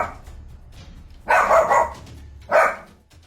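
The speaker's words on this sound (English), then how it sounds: "This creepy doll has been freaking out this dog for days on end" A dog barks at a creepy doll: a rapid cluster of loud, close barks around the middle, then another short bark burst near the end, with quiet room noise between.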